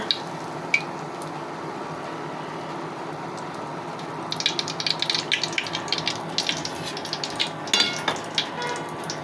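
Date-jaggery poa pitha frying in oil, a steady low sizzle that grows busier midway with crackling bursts and occasional ladle clinks, close and moderate, no one speaking.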